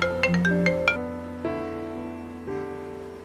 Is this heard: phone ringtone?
yes